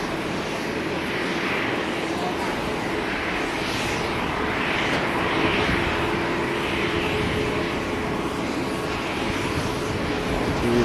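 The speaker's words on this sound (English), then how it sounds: "Here's Air India, and we'll be getting a takeoff this afternoon." Air India airliner at Haneda airport, a steady, loud jet engine roar that holds evenly throughout with a broad rushing hiss and no clear speech.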